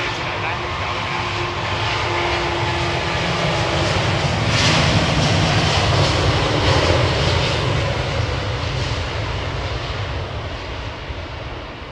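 An airliner rolls down the runway on its take-off run at Heathrow, a loud sustained engine roar that swells toward the middle and slowly fades, with voices speaking over it.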